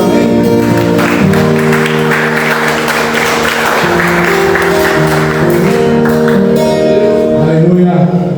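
A church congregation at a Lord's Supper celebration service claps in a broad wash of applause through the middle, while sustained music and voices carry on underneath from start to finish.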